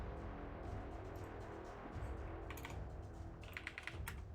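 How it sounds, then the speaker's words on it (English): Someone types on a computer keyboard while playing a mobile game, quiet scattered key clicks in two short bursts over a faint steady background hum, with no talking. "I just wasn't typing a big enough number"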